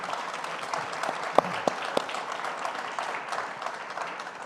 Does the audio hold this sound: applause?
yes